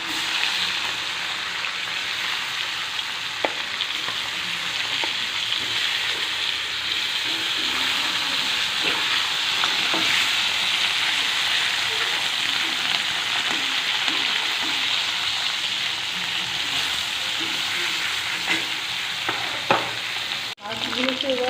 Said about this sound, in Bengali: মাছগুলোকে এবার একটু লাল লাল করে ভেজে নেবো